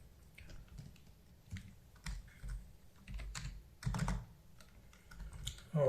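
Computer keyboard typing at a desk while working in Adobe XD, irregular bursts of clicking keystrokes with short pauses, fairly quiet and close, no voices.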